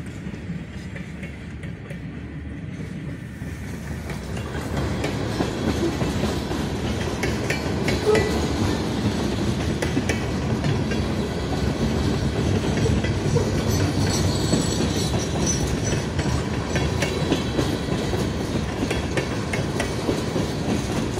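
Susquehanna freight train with boxcars rolling through a railroad crossing at Little York Lake, New York, rising to a steady loud rumble with rhythmic clickety-clack of wheels and faint squeals as the cars pass close by.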